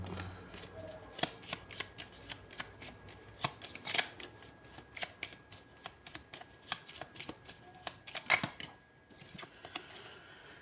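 Oracle cards being shuffled for a reading, a long run of quick crisp riffling slaps and flutters, close and fairly quiet, with brief pauses between bursts.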